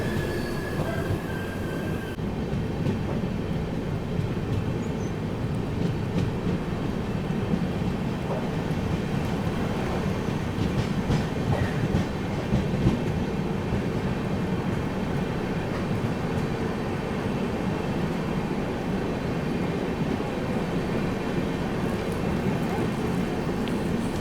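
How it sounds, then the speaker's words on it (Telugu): Heavy cyclone rain beats down outside a moving SMVT Bengaluru–Guwahati superfast express, the Kaziranga Express, near Chennai, blending with a continuous rumble of wheels on rails and occasional squeals, with no talking. "కానీ వర్షం మాత్రం బీభత్సంగా పడుతుందండి"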